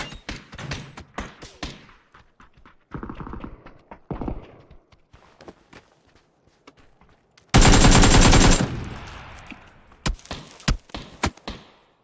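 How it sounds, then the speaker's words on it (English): Gunfire in the battle royale game PUBG, heard as a sharp loud burst of rapid automatic shots in the middle, with scattered single reports and thuds before and after. "Uh-oh, somebody shooting me."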